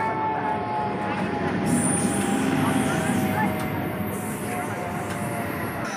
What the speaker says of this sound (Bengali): এটা অন্য ট্রেন।